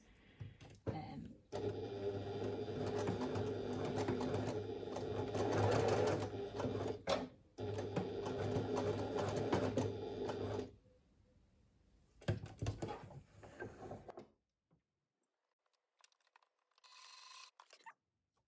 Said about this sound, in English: I'm just going to be sewing along from the edge to the notch, and from the notch to the edge with a 1 centimeter seam allowance